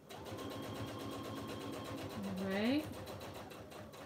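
Sewing machine top stitching fabric with a long stitch length, a steady fast close mechanical whir with rapid ticking pulses, while a person speaks briefly.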